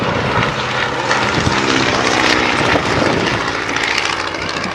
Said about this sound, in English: Where you can see the upper surfaces of the aircraft as it goes past